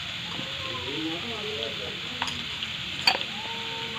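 Onions and tomatoes sizzle steadily in a pan as turmeric powder is stirred in, with a couple of sharp spoon clinks against the pan during cooking of semiya kichadi.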